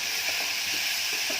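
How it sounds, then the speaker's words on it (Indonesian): Corn sautéing in a pan and being stirred, a steady close sizzle and hiss with faint scraping stir strokes running underneath throughout, no voices. "tumisan jagung. Kita aduk"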